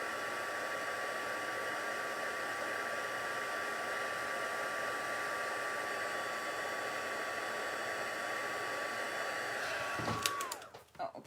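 A heat tool blows steadily while warming craft material, a constant loud airy whoosh with a thin whine that runs unbroken for about ten seconds, then cuts off and winds down, followed by a few faint clicks and handling sounds.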